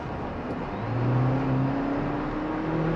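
A GWM Cannon Alpha 2.0T hybrid ute accelerating, heard from inside as a smooth, steady engine drone that rises gradually in pitch with road noise, no talking.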